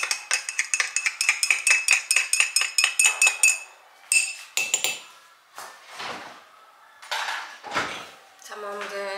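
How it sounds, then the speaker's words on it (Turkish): A metal spoon stirs a drink in a cup, ringing out a fast, steady series of bright clinks for several seconds, followed by a few scattered knocks and clatters of kitchenware close by. "Şöyle güzelce karıştıralım."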